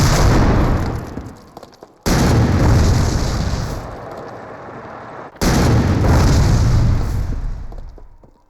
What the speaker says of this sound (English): his wingman fire 3 rounds into it